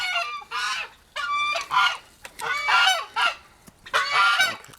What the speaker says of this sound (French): on entend les oies qui disent que j'arrive, qui me disent bonjour